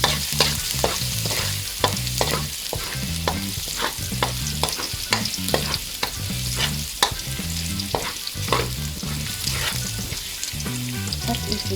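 Pork tripe frying in a hot pan and being stirred, a steady loud sizzle broken by a regular run of scraping strokes from the spoon across the pan, with no voices over it.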